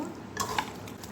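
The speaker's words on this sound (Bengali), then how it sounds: "এখন আমি এগুলো ভালো করে মিক্স করে নেব" Chicken pieces being stirred and mixed by hand with ready-made masala spice mix for dum biryani marinade, a soft close wet stirring with a couple of light utensil clinks, no talk.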